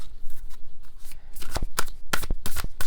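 A deck of cards is shuffled close up, with loud, rapid riffling bursts and flutters that get busier and sharper toward the end.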